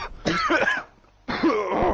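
Coughing from a character in Apex Legends gameplay, two close harsh bursts of coughing and throat clearing separated by a short pause.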